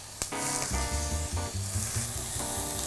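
Lion's mane mushroom steaks sear in an oiled pan, giving a steady bright sizzle and crackle that stays loud and close throughout, along with low rumbling clunks from the pan being handled.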